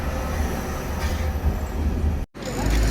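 A train passes with a steady rumble and the clatter of rail wagons, moderately loud and continuous, broken by a brief dropout near the end before the rumbling resumes.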